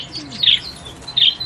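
A small budgerigar, a parrot, gives two short bright chirps close up, separated by a brief pause, over faint background noise.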